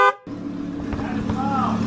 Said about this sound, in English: All right, so open the valves. There you go. Rev it.